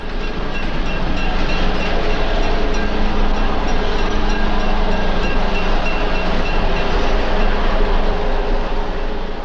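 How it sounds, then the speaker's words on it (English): An early Amtrak Texas Chief with Santa Fe lettered equipment stands at a station stop, its steady rumble and rolling rail noise loud and continuous throughout with no voices. "as an early Amtrak Texas Chief makes a station stop before heading west with all Santa Fe lettered equipment"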